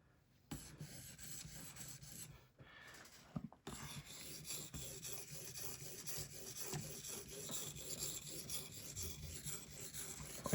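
Cold Steel 4-Max Scout knife blade being sharpened on an Edge Pro Apex stone system: a quiet, close, repetitive rasping and rubbing of stone across steel in steady strokes, with a brief pause partway through.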